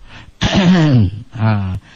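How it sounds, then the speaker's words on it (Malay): A person clears their throat twice, a short rough burst followed by a second, shorter one, close and fairly loud. "Ini berdehem."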